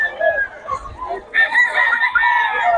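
Chickens cluck and call close by at a poultry yard, then a rooster breaks into a long, loud crow, with voices talking faintly in the background.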